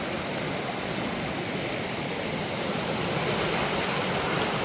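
A creek on the Big Island rushes loudly after heavy rains, a steady, dense roar of churning water filling the whole span without a break.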